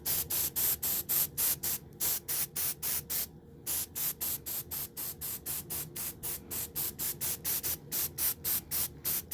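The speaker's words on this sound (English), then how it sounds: "So I'm going to spray my sweater" Rapid bursts of aerosol spray onto a sweater hiss in quick rhythmic pulses, close and steady, with one brief pause partway through; no voices.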